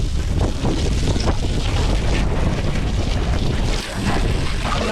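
Water sprays hard off a 2022 Polaris Ranger XP 1000 Northstar Ultimate UTV as a steady, loud, close rushing hiss that runs throughout, easing only briefly near the end.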